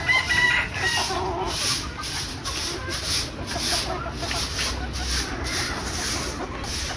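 Chickens cluck and squawk continuously in a poultry shed, a dense crowd of birds heard close up with steady overlapping calls and a high, persistent hiss running through the whole stretch.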